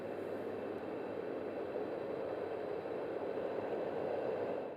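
A Yogasleep Dohm fan white noise machine gives off a steady, even whoosh of broadband air noise that stays constant throughout, alone with no talking.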